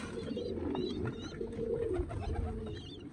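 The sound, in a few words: Shadhri pigeons with white eyes cooing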